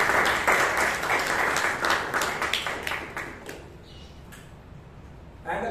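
Indoor audience applause at a Toastmasters club meeting in Bangalore, a dense burst of many hands clapping that thins and fades after about three seconds. A few last claps trail off, then a brief new sound comes in at the end.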